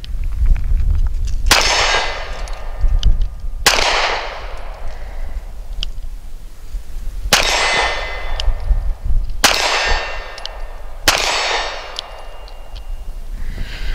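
Five sharp, loud handgun shots ring out one at a time at irregular intervals, each a crisp crack with a metallic ring and short decay, from a Smith & Wesson Performance Center pistol at an outdoor range.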